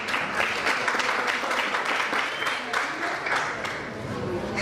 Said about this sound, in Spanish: Recibámoslo con un fuerte aplauso a ella.